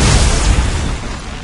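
A mine explosion in Dead Space 2: a single heavy boom with a deep rumbling tail that fades over about a second, loud and close.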